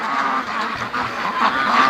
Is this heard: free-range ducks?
yes